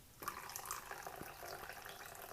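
Water pouring from the pointed spout of a Bonavita BV1900ts kettle, a soft, steady trickling stream that starts suddenly and runs on quietly, with no voices.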